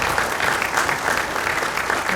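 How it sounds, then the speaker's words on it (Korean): A church congregation applauds warmly at a dedication and founding service, steady dense clapping from many hands filling the whole stretch without pause. "우리 다시 한번 큰 박수로 시행하겠습니다"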